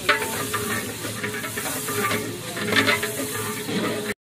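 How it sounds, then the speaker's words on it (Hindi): A spoon stirs about 2 kg of onions browning in hot oil for degi-style pulao, a steady loud sizzle with scraping strokes and occasional clinks throughout, no voices. "अब ये गर्म करने के लिए इसमें चम्मच चलाया जाएगा"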